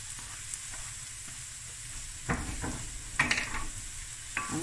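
Garlic fries in a pan for a tuna spaghetti sauce, giving a steady close sizzle with a few louder stirring scrapes and clinks.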